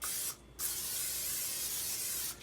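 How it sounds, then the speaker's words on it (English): Cooking spray misted into a baking dish while preparing zucchini brownies: a short hiss, a brief pause, then a longer steady close-up spray of about two seconds, with no talking. "Let me put some cooking spray in this one."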